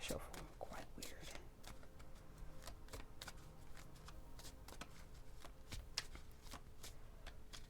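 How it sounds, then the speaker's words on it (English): Tarot cards being shuffled close by in a quiet room, a rapid run of soft riffling flicks and taps going on throughout. "But I think I shuffle quite weird."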